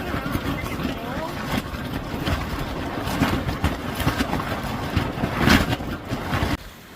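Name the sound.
sailboat in strong wind and big waves on Lake Huron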